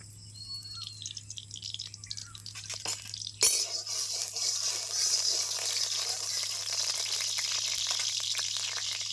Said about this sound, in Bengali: কড়াই গরম হয়ে গেছে, দিয়ে দিচ্ছি সরষে তেল।